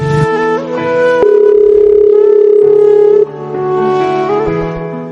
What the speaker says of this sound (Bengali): হ্যাঁ ফোন দিচ্ছি।